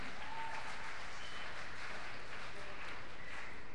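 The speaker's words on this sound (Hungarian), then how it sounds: "Igen, lehet tapsolni." Audience applause at a Christian worship event, heard as a steady wash of clapping from a crowd across the whole stretch, moderately loud and continuous without distinct individual claps.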